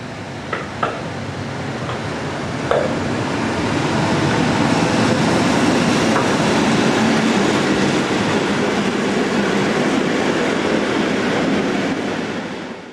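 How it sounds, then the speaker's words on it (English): German Class 141 electric locomotive in green livery departing Moselkern, Germany, a steady broad rumble and hiss that builds after a couple of sharp clanks and holds loud before easing at the end, with no talk. "green-livered 141115 departing Moselkern on the 15th of June 2002"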